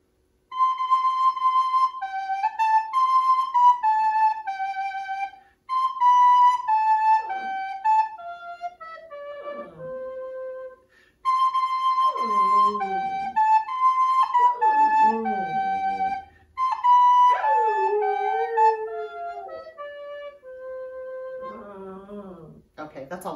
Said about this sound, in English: I'll play my recorder for you